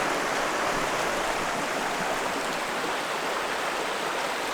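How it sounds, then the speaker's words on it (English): A small trout creek flows with a steady, broadband rushing and babbling of water, close and even throughout, with no voices. "What's that? It's a creek."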